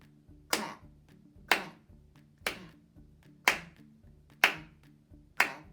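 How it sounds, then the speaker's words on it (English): Six sharp, evenly spaced hand claps from a group, about one per second, in a steady rhythm, close and clear against a quiet background with a faint low hum. "We are going to clap, clap, clap, clap, clap with me."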